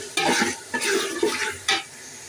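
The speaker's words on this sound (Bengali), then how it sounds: "আদা রসুন ভাজা হয়ে গেছে" Ginger-garlic paste fries in a pan for chicken biryani while a spoon scrapes through it in four distinct stirring strokes, with a soft sizzle underneath.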